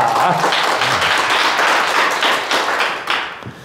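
Loud, dense applause from an audience at a Korean lecture in Daejeon, a full burst of clapping that thins out near the end with a few thumps.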